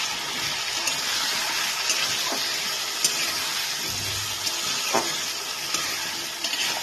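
Potatoes fry in a pan with salt, turmeric and sugar while being stirred, giving a steady close sizzle with soft scraping strokes throughout.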